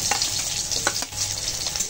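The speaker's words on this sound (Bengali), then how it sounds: "তেলের উপরে পাঁচফোড়ন দিয়েছি। এইবার এই কুচনো পেঁয়াজ দিয়ে দিলাম।" Chopped onion sizzles in hot oil seasoned with panch phoron, village-style Bengali home cooking, giving a steady close-up hiss with a few soft stirring scrapes throughout.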